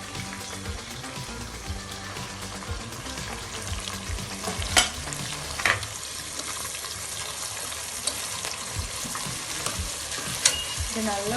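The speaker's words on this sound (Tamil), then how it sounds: "நான் பச்சை மிளகாய் ஆட் பண்ணிக்கிறேன். அப்படியே ஆனியன் கூட போட்டுக்கிறேன்." Green chillies and onion sizzle in spiced oil in a pressure cooker for veg biryani, a dense steady crackle close up with occasional stirring scrapes and clinks.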